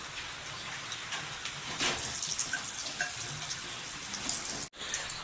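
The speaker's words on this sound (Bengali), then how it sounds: "কাজু বাদাম আর কিশমিশগুলো আমি 1 মিনিটের মতো ভেজে নিয়েছি" Cashews and raisins frying in a pan for Bengali basanti pulao, giving a steady, close hiss and sizzle that holds evenly, with only a brief break near the end.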